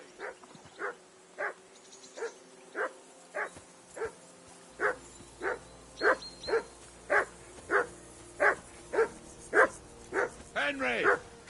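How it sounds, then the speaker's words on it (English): Dog barking in the video game Kingdom Come Deliverance 2: a long series of evenly spaced loud barks, about one per second, rising to a tighter flurry of yelps at the end, alone with no talk. "call that dog to heel"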